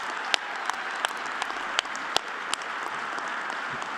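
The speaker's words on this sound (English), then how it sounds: "Pause for clapping." Audience applause at a Northwest Lineman College graduation ceremony, a steady wash of many hands clapping with a few sharper individual claps standing out, filling the whole stretch without talk.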